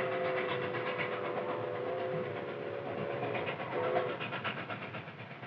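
Nickel Plate Road 759, a steam locomotive, rolls along the rails at speed. A steady, mid-distance rumble of wheels and machinery carries through, with a faint sustained tone over it and a slight fade toward the end.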